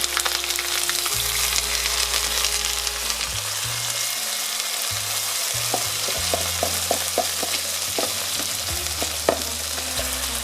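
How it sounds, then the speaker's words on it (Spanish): Steady, loud sizzling and crackling of prewashed brown rice frying in a hot pan, with occasional stirring scrapes, continuous throughout. "Vamos a poner nuestro arroz integral, que está prelavado. Ahí está, ¿ven? Ese es el ruido que tienen que hacer."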